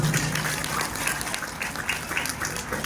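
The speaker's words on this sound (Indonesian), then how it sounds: "Tepuk tangan dulu." Audience applause at an Islamic sermon at Pesantren An-Nur 2, Malang, a steady, dense wash of clapping filling the whole moment without a break.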